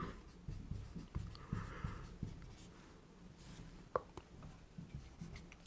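A pen writes by hand during a Hindi-language math lesson on linear equations, faint scratchy strokes in short bursts with a few sharper taps, quiet and close, with no speech.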